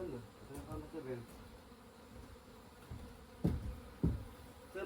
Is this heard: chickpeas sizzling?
no